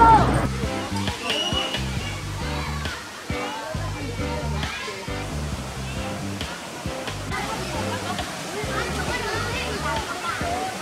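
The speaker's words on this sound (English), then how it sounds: "Waterfall!" Kathu Waterfalls in Thailand, a busy local swimming spot, give off a constant splashing rush under a steady hum of nearby voices and crowd chatter throughout.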